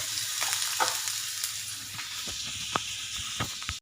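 Onion, garlic and slit green chilli sizzle and crackle in hot oil, a steady close fry broken by soft scraping stirs and a few sharp pops.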